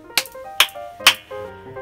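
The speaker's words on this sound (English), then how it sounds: "say you're practicing for like a cathedral space" Practice room with a simulated cathedral reverb: short, bright struck piano-like notes, four attacks in under two seconds, each followed by a lingering ringing tail, with no voices.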